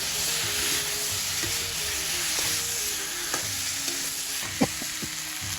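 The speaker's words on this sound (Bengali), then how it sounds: "এবার সবজিগুলো দিয়ে দিচ্ছি, দিয়ে হালকা কষিয়ে নেব" Vegetables sautéing in a hot pan with ginger paste and green chilli for a village-style ash gourd and shrimp curry: a steady close sizzle with stirring scrapes and a few sharp utensil clinks, no voices.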